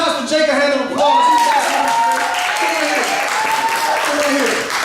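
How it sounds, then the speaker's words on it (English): Audience applause for Pastor Jake at a church gathering, a sustained wash of clapping and crowd noise with a voice speaking over it throughout. "Y'all give Pastor Jake a hand of applause"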